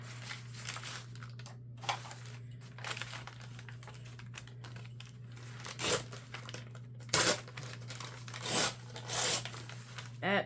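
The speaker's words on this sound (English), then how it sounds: "tear off some brown shipping paper." Brown shipping paper is torn off by hand in several short ripping bursts, quiet and close, with rustling and crinkling between tears over a steady low hum.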